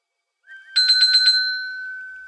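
A telephone rings from a random phone dialer: a short rising chirp, then a rapid trilling electronic ring at a steady pitch that sustains and slowly fades, clear and close with no talk.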